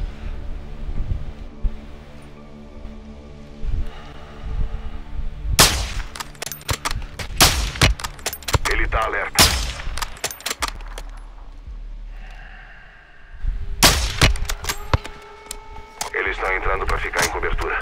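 Bursts of gunfire crack repeatedly in short clusters over a steady electronic background, with voices speaking between shots, in the video game Call of Duty: Modern Warfare 2 campaign.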